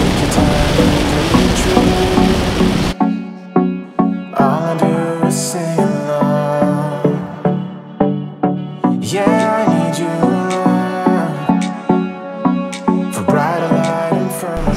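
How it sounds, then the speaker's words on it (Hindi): Heavy rain pounds a Toyota Innova Crysta driving through Mumbai, a loud dense roar at first, then a steady downpour with rhythmic whooshes of wipers on full speed. "गाइस क्या तूफानी बारिश हो रही है यार"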